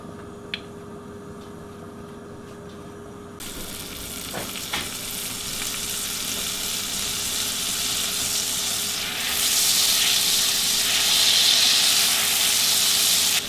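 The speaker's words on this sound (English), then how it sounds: "You want to use a wire whisk and make sure that cornstarch gets down in there good" A wire whisk stirs cornstarch gravy with Worcestershire sauce in a hot pan, a steady sizzling hiss that swells louder partway through and continues without talk.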